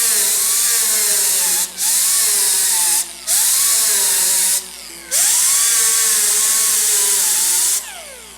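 Power sander with 60 grit grinding over welded, rust-pitted steel patches on a Pontiac GTO, a loud, sustained high whine in four long passes separated by brief pauses.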